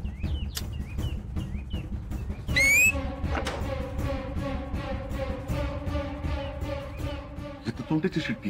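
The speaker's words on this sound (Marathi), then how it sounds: "इथं तोंडाची शिट्टी" A person whistles with the mouth in a TV serial scene: a few short chirpy whistles, then a sharp rising whistle, over a busy background of rhythmic percussive music and voices.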